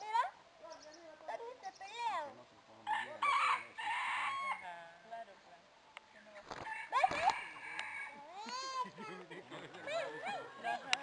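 A rooster crows repeatedly in a home near the kitchen. The crows are loud, rising calls that come in several bursts, with people talking over them throughout.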